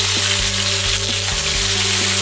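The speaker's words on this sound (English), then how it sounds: "when I just put it on and it sizzles, I just wanted to seal it" A chicken cutlet sizzles loudly and steadily in a hot frying pan, a continuous crackling hiss over a low steady hum, with no talking.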